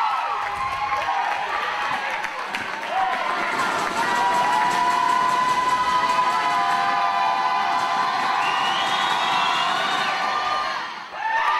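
Home crowd in a college women's basketball gym roars and cheers continuously, loud and sustained with shouts and whistles, dipping only at the very end.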